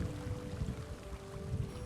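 Gentle harbor water at Ald Velothi in a fantasy video game, a soft continuous lapping and pouring wash under a low ambient hum, quiet and steady.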